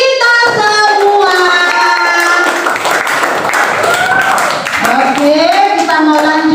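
Classroom audience of children clapping along with lively chatter and shouting voices, a steady mass of claps beneath loud, close voices.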